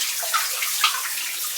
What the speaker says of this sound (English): the water's obviously flowing through that fairly easily